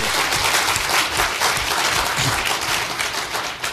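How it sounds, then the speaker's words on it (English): Loud, sustained applause from a conference audience at a naval symposium speech: a thick, continuous roar of many clapping hands that holds steady across the whole stretch without any voices. "Let's give Mike a round of applause for that"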